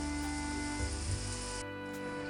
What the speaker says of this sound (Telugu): ఇలా ఇది మంచిగా ఫ్రై చేయాలి